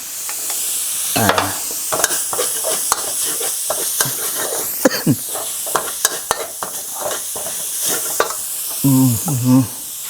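Curry paste for canned-fish nam ya curry is stir-fried in a pan, producing a loud, continuous close-up sizzle broken by repeated sharp scrapes and taps of a spatula.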